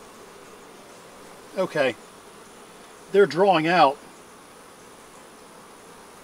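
Honeybees drone softly around an open, crowded hive during an inspection. The faint steady hum is broken by two short, louder buzzing bursts up close, and a person says a word.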